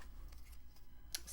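Scissors snip through paper while trimming a section from a small folio with a notepad, one crisp close cut near the end after quiet handling rustle.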